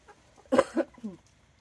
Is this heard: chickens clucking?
yes